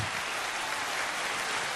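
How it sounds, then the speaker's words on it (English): Live audience applause at an interview event, a short even burst of many hands clapping at moderate level, steady from start to finish. "We're going to give him some applause for that."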